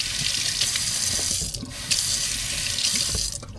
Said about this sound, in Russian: Раковина, давайте сразу. Холодная, горячая.